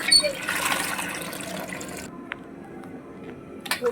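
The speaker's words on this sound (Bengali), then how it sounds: "এবার আমি মাছগুলো ধুয়ে আপনাদের কাছে ফিরে আসছি।" Hilsa fish being washed in water in a home kitchen, a steady running and splashing wash for about two seconds that cuts to near quiet with a few faint drips and small splashes returning at the end.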